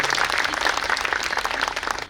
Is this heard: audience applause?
yes